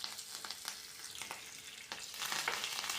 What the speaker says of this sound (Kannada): ಎಣ್ಣೆ ಕಾದ ನಂತರ ಅದಕ್ಕೆ 1 ಟೀ ಸ್ಪೂನು ಸಾಸಿವೆ, 1 ಟೀ ಸ್ಪೂನ್ ಜೀರಿಗೆ ಹಾಕ್ಕೊಳ್ಳೋಣ